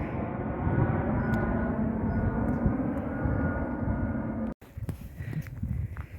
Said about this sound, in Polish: będę zagłuszana przez samoloty, bo samoloty latają teraz z częstotliwością 3 minuty